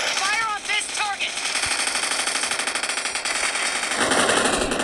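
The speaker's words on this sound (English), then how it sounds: "Fire on this target." Rapid automatic gunfire crackles in the PUBG Mobile battle royale game, a loud sustained burst of shots under game effects.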